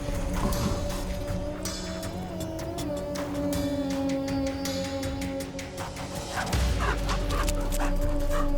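A pack of African wild dogs on the savannah gives repeated yips, whimpers and short barks across a steady droning backdrop, with a louder, denser stretch toward the end.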